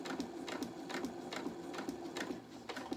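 A sewing machine top stitches a reusable fabric storage bag in a steady, close, continuous whir, with its needle punching at a regular rhythm of roughly three stitches per second.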